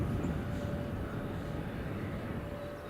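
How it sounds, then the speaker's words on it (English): An EasyJet airliner taxiing at Edinburgh Airport gives off a faint, steady engine hum with a thin whine, distant and continuous throughout the early-morning scene. "EasyJet's just pulling into the loop there at the end."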